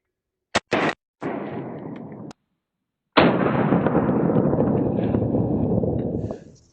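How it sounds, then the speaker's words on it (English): Faxon FX pistol shots fired at Mehler body armor ring out as a few sharp, loud cracks in quick succession, followed by a longer burst of rushing noise that fades out. "we've got the Faxon FX pistol here, and we'll see how it does"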